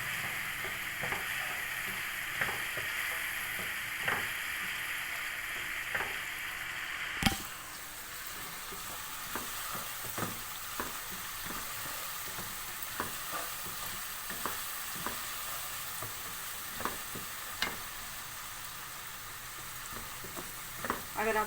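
Spices with garlic-ginger paste fry in a pan with a steady close sizzle, while a spoon stirs and taps against the metal in repeated scraping strokes.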